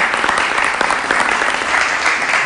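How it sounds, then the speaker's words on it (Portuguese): Audience at an educational event in Rio de Janeiro breaks into steady, dense applause, many hands clapping continuously and evenly for a few seconds with no voices standing out. "uma salva de palmas para o Marcelo Yuka, nosso convidado"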